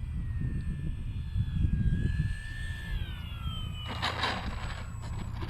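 An Arrows Trekker RC airplane flying overhead, its small electric motor whining steadily and shifting pitch as it passes, loud and fairly close, with a brief rushing swell near the end.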